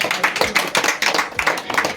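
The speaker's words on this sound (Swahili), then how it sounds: "Acha tumpigie makofi anaposalama." Audience at a Kikuyu-language church gathering in Nakuru clapping by hand, a dense steady patter of many palms in close rhythm that fills the room with no one talking.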